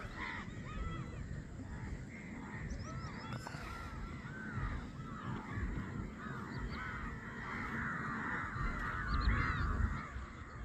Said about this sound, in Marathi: कावळे खूप आहे गंगापूर धरणावर